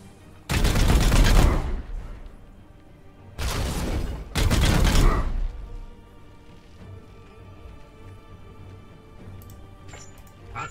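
Support gunfire from the video game Warhammer 40k: Chaos Gate - Daemonhunters comes in three loud, dense bursts of rapid shots with heavy booms, each lasting about a second, followed by quieter game ambience.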